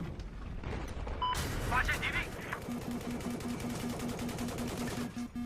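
A tank's coaxial machine gun fires in Battlefield 4, rattling out a fast, even stream of shots after a heavy blast, with a voice talking over the gunfire.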